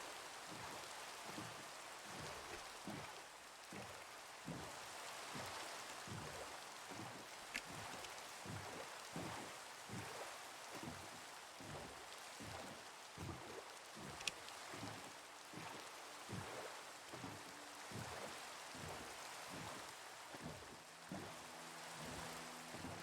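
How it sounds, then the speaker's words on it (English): Steady Minecraft rain falls and patters throughout, with a low rhythmic pulse of drops and faint distant rumbles, no voices over it. "I really wish it would stop raining."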